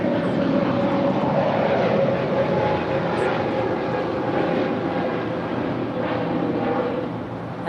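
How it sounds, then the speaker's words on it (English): A two-year-old Spirit Airlines Airbus A320 takes off at LAX, a steady broad engine roar holding at even loudness throughout and easing slightly at the very end. "And that was Spirit 128 off to Baltimore. It's a 2-year-old A320."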